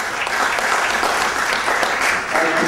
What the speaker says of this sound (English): So let's really just give an applause to the speakers.